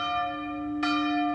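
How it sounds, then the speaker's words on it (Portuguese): A church bell at a novena service, rung by the sacristan: one clear struck tone with a long sustained ring and rich overtones, close and resonant, following an earlier ringing that still hangs in the air. "toca o sino, sacristão"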